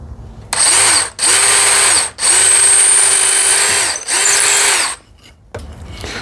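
A power drill with a 3/16 bit bores a clearance hole in wood, whining loudly in four steady bursts broken by short pauses, then stops, heard close up with no talking.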